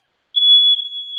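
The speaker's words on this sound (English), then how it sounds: "I hate my smoke detectors." A smoke detector in a home kitchen sounds a loud, piercing, steady high-pitched tone after a brief silence, close and alone, with a slight wavering toward the end.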